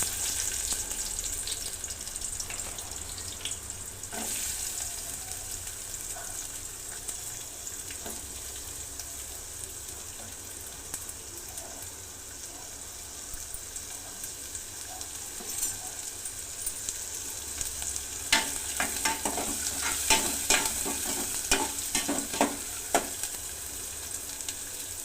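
Onions fry in about three spoons of oil in a pan, a continuous near sizzle broken by scattered crackles and short stirring scrapes that grow busier toward the end.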